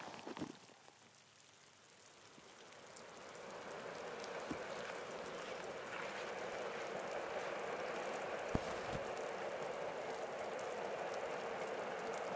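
Rain falls steadily on the Cape Wrath Trail in the Scottish Highlands, a soft constant patter that builds slightly after the first seconds, with a few faint knocks.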